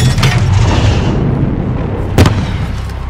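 A grenade explosion in Call of Duty: Modern Warfare: a deep rumbling boom that rolls and fades, followed by a short sharp crack, with no talking.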